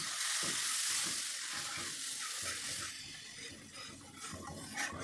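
Water poured from a glass hits a hot frying pan holding fried tomato and hisses loudly, the sizzle settling into a softer bubbling crackle with occasional utensil knocks.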